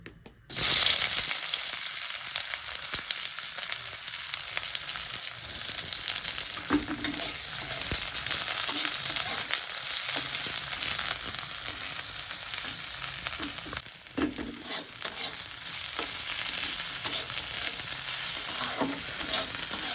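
Fish fat renders and fries in a pan without added oil, a steady, dense sizzle crackling throughout with a few quieter dips and faint stirring.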